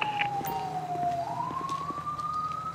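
An ambulance siren in Grand Theft Auto 5 wails in a sweeping electronic tone, dipping then rising again over a faint vehicle rumble, fairly close and without speech.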